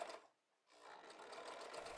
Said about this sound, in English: I'm using my sewing machine to sew on the words lump of coal